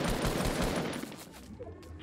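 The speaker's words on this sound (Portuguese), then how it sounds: "Caraca, eu tomei tiro de cima, Funk." Gunfire crackles in Fortnite: a dense, rapid burst of shots, loud at first and then thinning out over about two seconds.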